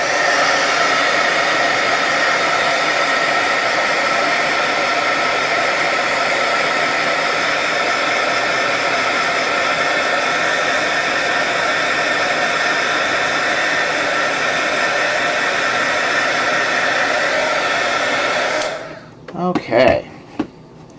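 Heat gun blowing hot air to dry paint on a Nighthaunt miniature, a loud, steady whirring hiss running unbroken, then cutting off near the end, followed by a few light clicks and handling sounds.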